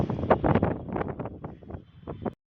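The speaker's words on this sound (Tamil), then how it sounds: "ஏன்னா விண்ட் செம்மையாக இருக்குது." Strong wind buffeting a microphone at a high rooftop viewpoint over Bangalore city, coming in rough, loud gusts and bursts that fade out after about two seconds.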